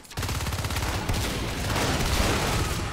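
Rapid, loud automatic gunfire and shotgun blasts fill a firefight in the video game Natural Selection 2, a continuous dense barrage with no talking.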